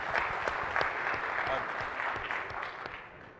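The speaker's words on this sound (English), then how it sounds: "Can we give her a round of applause?" Applause from an audience after a business presentation, a steady wash of clapping at moderate distance, fairly faint and tapering toward the end, with a faint voice beneath.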